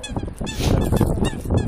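A coot calling outdoors, a short run of harsh honking notes repeated close by, loud and abrupt over a brief stretch.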